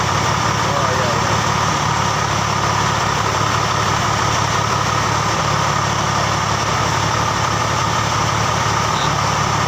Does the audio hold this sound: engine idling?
yes